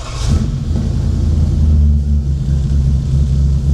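A 1951 Ford Custom engine starts cold and settles into a loud, steady, rough idle with low rumbling throughout, close to the listener.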